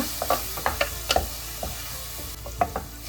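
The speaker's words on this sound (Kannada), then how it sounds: "ಫ್ರೈ ಆಗಲಿ 1 ನಿಮಿಷದ ಕಾಲ ಇದನ್ನು ಚೆನ್ನಾಗಿ ಫ್ರೈ ಮಾಡ್ಕೊಳ್ಳೋಣ" Ingredients for mushroom white pulao frying in a pan: a continuous hiss of oil with rapid clicks and spatula scrapes clustered close together, near and fairly loud, no voices.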